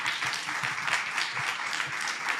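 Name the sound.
audience applause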